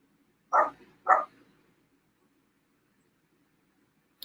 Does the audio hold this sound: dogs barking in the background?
yes